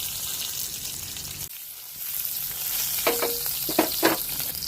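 A tablespoon of mustard seeds and green chillies fry in oil left from frying brinjal, giving a steady sizzle with short bursts of crackles and pops near the end.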